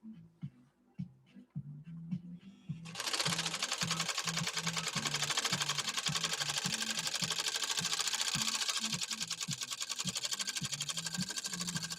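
A Pfaff 130-6 sewing machine fitted with an embroidery kit starts with a few slow, hand-turned thumps, then runs steadily with a rapid, even mechanical clatter, close and prominent.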